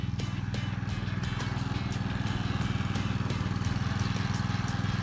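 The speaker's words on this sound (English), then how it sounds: "the machine chops up and clears snow through a powerful dual-stage technology" A Husqvarna ST124 petrol two-stage snowblower runs steadily close by, its engine giving a continuous rumbling drone with a fast, even pulse and no pauses.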